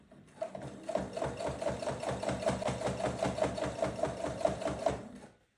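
A sewing machine fitted with a heavy duty needle stitches through a thick stack of fabric layers in a steady, fast rhythmic chatter that runs for several seconds before stopping, loud and close, with no talk.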